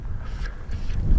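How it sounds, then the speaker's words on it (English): Wind gusting across an open desert landscape near a volcano in the Cabezon Wilderness, a steady low rumble buffeting the microphone and building slightly toward the end. "a little windy out here"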